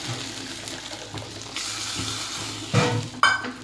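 Ginger, onion and mustard paste frying in a pan for a hilsa curry, giving a steady close sizzle with stirring scrapes and a louder splashy burst near the end, with no one speaking.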